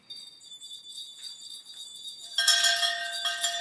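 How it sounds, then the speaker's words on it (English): Many house bells ringing together as a radio drama effect for A Christmas Carol, bright overlapping chimes starting sparse and swelling into a louder jangling cluster, with no voices over them. "Every bell in the house must be ringing."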